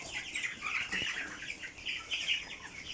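Broiler chickens on a farm clucking and chattering together, a steady chorus of close, overlapping bird calls with occasional wing rustles and no talking.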